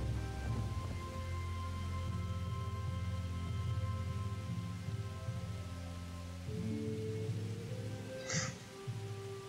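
Steady rain falls across a medieval village in the video game Kingdom Come: Deliverance, a continuous even hiss over a low ambient drone, with one brief brighter spatter near the end.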